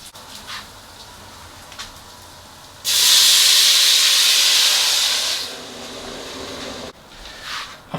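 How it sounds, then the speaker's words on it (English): Water poured into a pan of rice frying on an electric hob gives a sudden loud burst of steamy hiss and sizzle lasting about two and a half seconds, then settles back to a faint crackle. "while that is frying together with the rice, I'm going to add some water."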